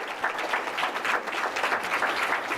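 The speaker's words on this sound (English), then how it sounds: "Let's give them a big round of applause." An audience at a public school board meeting bursts into sustained applause for graduating seniors, a thick, even patter of many hands clapping at once that stays strong from start to finish without talk over it.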